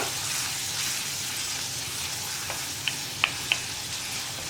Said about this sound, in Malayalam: സാധാരണ നമ്മൾ പപ്പടം വറുത്തെടുക്കുന്നത് പോലെ അങ്ങ് വറുത്തെടുക്കുക